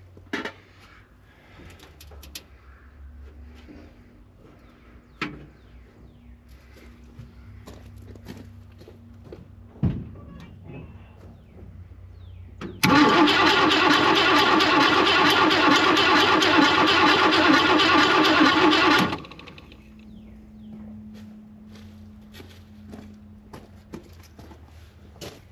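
On a 1966 Mustang, the fuel pump runs to fill the carburetor, making a loud, steady whirring burst of about six seconds between quieter clinks and shuffling in a garage.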